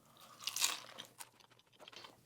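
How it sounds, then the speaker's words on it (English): A crispy potato samosa stuffed with mashed potato and corn gets bitten into, giving a close, sharp crunch followed by a few smaller crackling chews, with no talking. "I know you heard that crunch"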